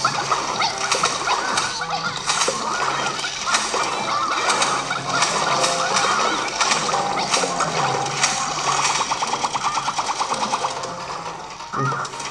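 A chicken clucks and squawks in a mobile video game, a busy repetitive gobbling chatter layered over game music and effects, loud and continuous throughout.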